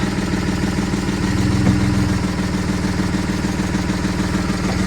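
Opel Omega B V6 engine idling after repair, a loud, steady low rumble with an even mechanical pulse, close by and without any talk.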